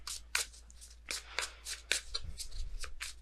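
Tarot cards being shuffled by hand close up, a series of quick riffling bursts in an irregular rhythm, fairly quiet and without speech.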